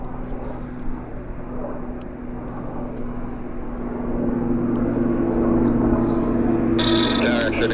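A Korean Air Boeing 777 cargo jet on approach to Vancouver airport rumbles with a steady low drone that grows louder partway through, with a tonal whine on top and a brief sharper noise near the end.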